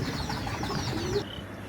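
A pair of Lahori pigeons, a cream-bar female and an almond male, coo softly amid a busy wash of background noise in a short, continuous stretch.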